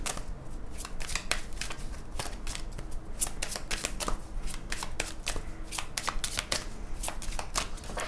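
A deck of tarot cards being shuffled and cut up close, giving a steady run of crisp riffling flicks and slaps with no talk over it.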